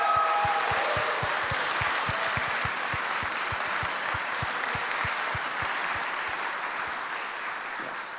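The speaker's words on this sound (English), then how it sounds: "So a big applause for them, everyone." Sustained audience applause fills a live horror game awards show stage event, dense steady clapping with a few sharp claps up front, loud and continuous, tapering slightly toward the end.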